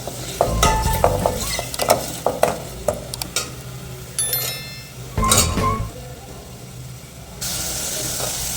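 Garlic sizzling in sunflower and mustard oil for a bitter gourd gravy, with a steady hiss broken by repeated clinks and scrapes of a spoon stirring in the pan, close by.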